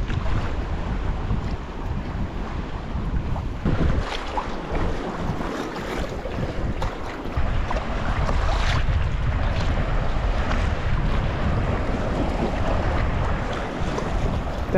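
Boat crossing a bay at sea, with continuous wind buffeting the microphone and the rush of waves and hull spray rolling steadily throughout, loud and close, no talk.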